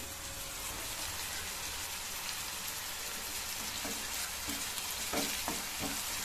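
Green chillies sizzling in oil in a pan on the stove for a tuna curry, a steady, close frying hiss throughout, with a few soft scrapes near the end and no talking.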